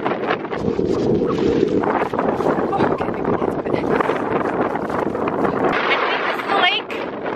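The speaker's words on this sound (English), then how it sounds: "the water, it's just too windy to be able to walk all the way across" Strong wind buffets the microphone with heavy, roaring gusts outdoors near water in the Canadian Rockies, and a voice talks underneath.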